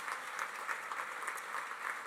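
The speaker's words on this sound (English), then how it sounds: "round of applause for our" Faint, distant applause from a standing conference audience for the hosts at DevDays 2019 in Amsterdam, a soft continuous patter of clapping heard from afar.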